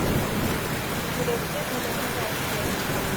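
Heavy rain pours steadily outdoors in Jammu under dense clouds during a thunderstorm. A broad, constant wash of rain fills the scene, loud and close, with no distinct thunderclap standing out.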